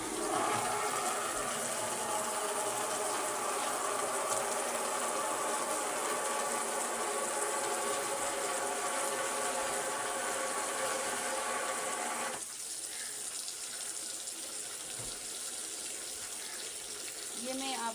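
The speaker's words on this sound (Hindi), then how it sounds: "टब मैंने मैनिक्यू पेडिक्यू के लिए लिया था और इससे मैं कपड़े धो रही हूँ।" Clothes are hand washed in a small manicure-pedicure tub, with steady splashing and sloshing water running for a long stretch before it drops to a quieter, thinner trickle.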